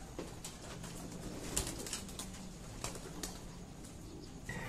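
Racing pigeons arrive at a loft with bursts of wing flapping and soft cooing, several birds close by over a faint outdoor background.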